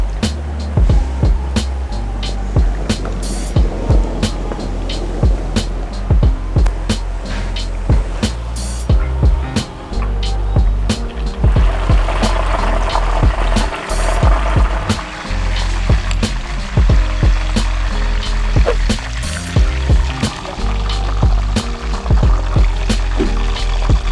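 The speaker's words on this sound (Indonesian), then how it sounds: "sekarang kita akan goreng pakai apinya api sedang ya" Thick layered beef katsu deep frying in oil over medium heat, a steady crackling sizzle with frequent sharp pops and spits running continuously throughout, close and fairly loud with no talking.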